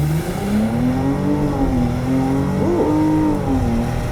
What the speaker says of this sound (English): In the 2022 Porsche E-Hybrid Cayenne, foot to the ground, performance start.